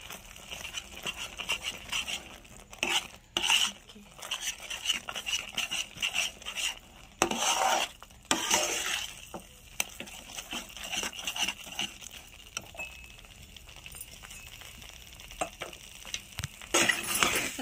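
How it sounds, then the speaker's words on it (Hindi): A utensil scrapes and stirs bread into a sweet mixture in a pan, giving irregular close clinks and soft scraping bursts with quieter pauses between. "अब इसको हम इसमें मिक्स करेंगे"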